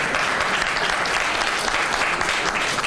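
Sustained applause from an audience at a school board of education meeting, dense steady clapping filling the room for the whole stretch with no pauses.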